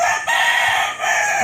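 Fighting rooster crowing loudly and close, one long strained crow with a brief break, alone without talk.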